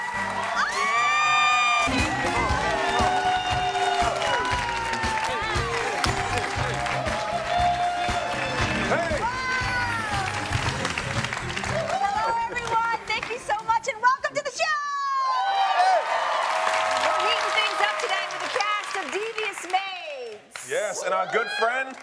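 Studio audience at a talk show applauding and cheering loudly, with whoops and shouts over sustained clapping, and a host's voice talking through parts of it.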